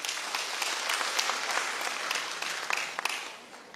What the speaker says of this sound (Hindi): ऊर्जा से ओतप्रोत इस प्रतिवेदन के लिए जोरदार ताली